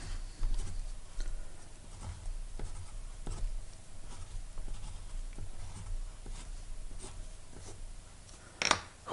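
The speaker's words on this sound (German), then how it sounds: "Wie immer mache ich mir meine Skizze, beschrift sie ordentlich." A pen scratches faintly on paper while a labeled geometry sketch of a triangle is drawn, making soft irregular strokes and taps over quiet room noise, with a sharper scrape near the end.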